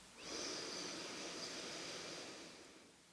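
A deep, steady inhale drawn in through the nose during a guided morning yoga session, a soft airy hiss lasting a few seconds, close and quiet, gently tapering at the end with no talk over it.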